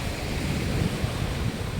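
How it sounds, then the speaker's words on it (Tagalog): Steady, rough ocean surf rolling and washing continuously, mixed with wind buffeting the microphone; no voices. "Lumalakas na yung hampas ng alon"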